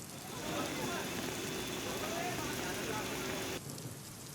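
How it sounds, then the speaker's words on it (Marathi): Heavy rain pours down in Navi Mumbai, a dense, steady hiss of downpour on surfaces that stays loud and continuous, easing slightly near the end. "नवी मुंबई शहरामध्ये मुसळधार पाऊस पडत आहे"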